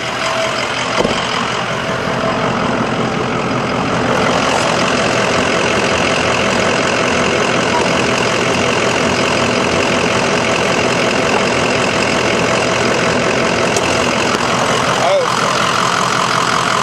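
A 2004 Ford E450 van engine idles steadily nearby, a constant low rumble with slight knocking, running for the whole stretch without pause.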